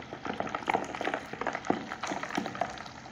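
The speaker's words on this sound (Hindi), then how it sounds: "मैं इसमें डालूंगी पानी" Water is poured into a mixture for homemade sugarcane juice, a close, irregular bubbling and splashing of liquid with small crackles, steady and moderately loud, with no talk.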